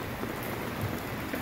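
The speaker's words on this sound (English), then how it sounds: "And then the rain picks up." Heavy rain falls outdoors during a firefighter's funeral, a steady, dense hiss of drops with no voices.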